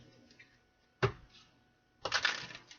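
A thick tarot card deck is handled close by: one sharp tap, then a short papery riffle of shuffling, quiet and with no talking.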